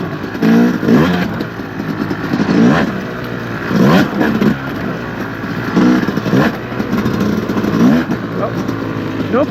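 A 2025 Yamaha YZ250X two-stroke dirt bike ridden on a muddy OHV trail, its engine revving up and down in repeated loud bursts of throttle, close and continuous.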